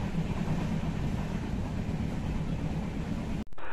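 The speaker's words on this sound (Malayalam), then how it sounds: "ട്രെയിൻ ഇപ്പോൾ ആലപ്പുഴ റെയിൽവേ സ്റ്റേഷനിൽ എത്തിച്ചേർന്നിരിക്കുകയാണ്." A passenger train rolling into Alappuzha railway station gives a steady, loud rumble and clatter of wheels and carriages, carrying on evenly before it cuts off abruptly near the end.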